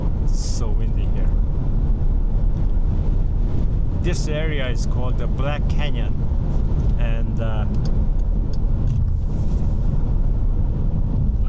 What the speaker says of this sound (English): Whoa, it's so windy here.